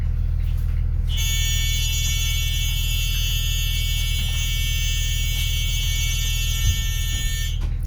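Emergency door warning buzzer on a bus sounding after a brief lead-in, a loud, steady electronic tone held continuously for several seconds over a low engine hum.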